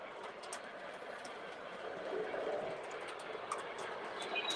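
A 2900 class steam locomotive in a train simulation game runs with a soft, steady rumble and faint repeated chuffs, moderately quiet throughout with no talking.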